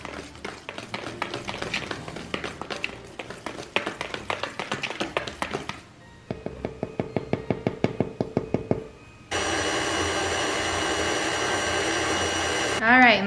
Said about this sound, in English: I'm gonna whisk this all together.